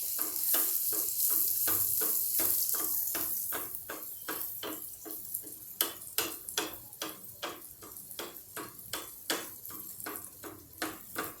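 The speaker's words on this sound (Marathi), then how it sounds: "यामध्ये मी हे दुसरं तयार केलेलं पॅटीस टाकत आहे गरम तेलात" A corn patty fries in hot oil, a bright continuous sizzle laid under a rapid run of regular clicking taps, loud early and then settling into a choppier crackle.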